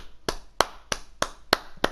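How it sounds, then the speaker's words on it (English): Six sharp, evenly spaced claps ring out one after another, crisp and close, like a lone person slowly applauding. "Applause to that man."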